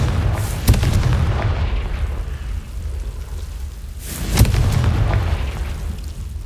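Confringo explosive spell blasts in Hogwarts Legacy, two loud booming bursts a few seconds apart over a rumbling low background, each a sharp crack followed by a decaying roar.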